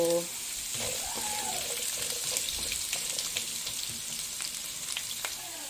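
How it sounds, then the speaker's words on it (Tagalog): Carrots frying in oil in a pan for chicken curry, a steady close sizzle with occasional clinks and stirring, a voice briefly heard at the start. "yung ating carrots naman, yung ating piprito"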